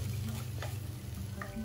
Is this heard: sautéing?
yes